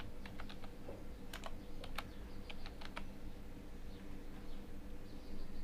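Keys clatter on a computer keyboard in short irregular bursts of clicks, fairly quiet against a steady low room hum, with no voices.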